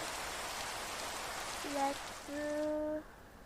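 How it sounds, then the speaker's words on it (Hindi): Steady Minecraft rain falls on a thunderstorm night in a survival world, a constant even hiss that drops away abruptly near the end, with short synthetic tones rising over it. "बारिश लगातार चल रही है।"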